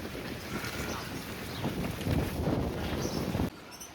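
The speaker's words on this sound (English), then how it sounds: "Oh, the wind is picking up." Seaside wind gusting at Akaroa, a dense close roar buffeting the microphone and swelling midway before dropping off near the end.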